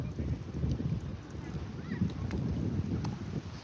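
Wind buffets a fishing boat out on the water at Billy Chinook, a low continuous rumble of gusts over the microphone with faint knocks against the hull.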